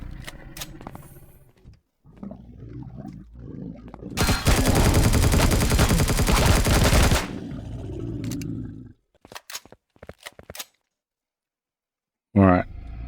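Weapons fire in the space survival game Empyrion Reforged Eden: a loud, dense sustained burst of gunfire lasting about three seconds, preceded and followed by scattered sharp shots and clatter, with a brief loud blast near the end.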